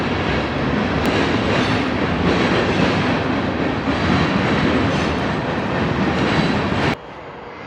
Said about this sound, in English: The train nearby kind of reminds you what it might have sounded like